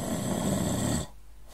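A voice imitates the loud, heavy snoring of four big snorers sharing one room, a dense rasping burst lasting about a second before cutting off into quiet.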